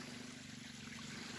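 Floodwater from the overflowing Tahuilapa river rushes past in a steady, continuous roar with a faint high hiss on top, close and unbroken, with no voices.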